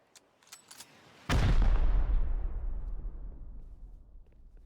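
Rocket explosion in a video game: a few faint clicks, then one sudden loud blast with a deep, rumbling tail that slowly fades over several seconds.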